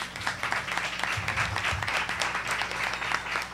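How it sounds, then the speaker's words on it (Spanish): Steady applause from an audience at a university debate on bullfighting, honoring the panelists; sustained, even clapping from a moderate-sized crowd, moderately loud, for several seconds. "a nuestros panelistas un fuerte aplauso."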